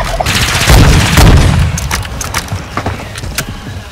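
A shotgun in a video game fires a couple of heavy, booming blasts close together, loud and near, followed by rattling mechanical clatter and scattered sharp clicks as the sound fades.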